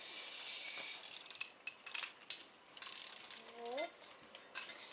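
A wind-up Despicable Me 2 Minion toy from a McDonald's Happy Meal spinning with a faint whirring, ratcheting mechanical buzz, close and quiet, with a brief rising squeak near the end.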